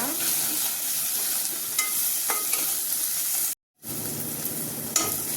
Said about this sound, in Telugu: ఇప్పుడు ఇందులో ఒక హాఫ్ స్పూను అల్లం వెల్లుల్లి పేస్ట్ వేసాను. దీన్ని కూడా మంచిగా పచ్చివాసన పోయేలా ఫ్రై చేసుకోవాలి.